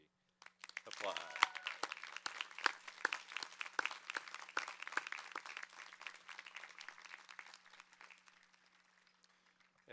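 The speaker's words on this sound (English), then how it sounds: "Applause." A commencement ceremony audience breaks into applause, building quickly into dense clapping that holds steady and then thins out and fades near the end.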